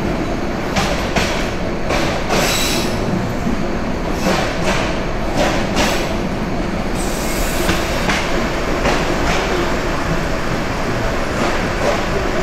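Tulna Express passenger train running from Feni to Dhaka, a loud continuous rumble and rattle of carriages with rhythmic clacking wheels and occasional squeals, heard from close up for the whole stretch.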